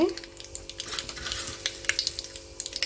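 Asafoetida, mustard seeds and cumin tempering in a small amount of hot oil for a broken wheat pulao, a steady close sizzle and crackle with scattered sharp pops from the spluttering seeds, no talking.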